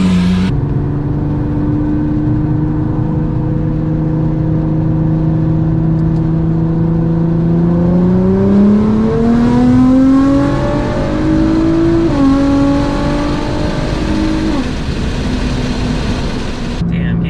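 A Nissan GT-R with straight-pipe exhaust holds a loud, droning rev, then launches, its pitch climbing through one gear change and a second surge before backing off, close and raw the whole way.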